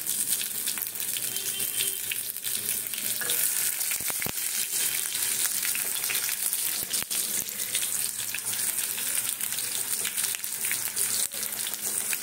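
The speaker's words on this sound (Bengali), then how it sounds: "আলুগুলোকে একটু ভেজে নেব।" Potatoes sizzling in hot oil left over from fried meat, a loud steady crackle and hiss throughout with occasional stirring knocks, close by and without talk.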